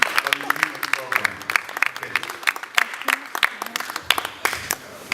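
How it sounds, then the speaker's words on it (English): Audience applause for a keynote speaker at an evening program, dense steady clapping from a crowd filling the room, with some voices mixed in. "let's give him a round of applause as he comes and give us a keynote address for the evening program"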